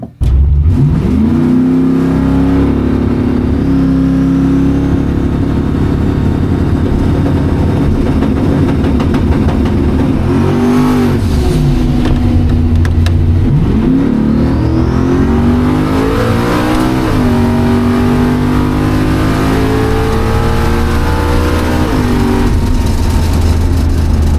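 A drag race car makes a test pass at a track, its engine roaring loud and close. It revs up through several rising sweeps with brief drops between gear changes, sustained for the whole run without any voices.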